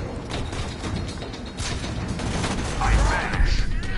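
Gunfire in the VR video game Borderlands 2, rapid volleys of shots and booms in a dense, loud barrage of combat sound.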